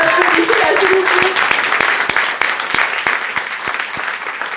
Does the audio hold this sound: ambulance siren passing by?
no